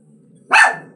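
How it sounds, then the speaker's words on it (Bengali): A pet dog gives a single loud, close bark in reaction to a noise outside, a short sharp burst over a quiet background. "বাইরে কোথাও একটা শব্দ হলে তো ঘেউ ঘেউ চালু হয়ে গেল"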